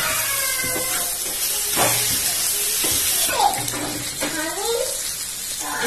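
Oil sizzles in a pan while chicken pulao is being cooked, giving a continuous hiss with crackling bursts and a few louder spits and clatters scattered throughout.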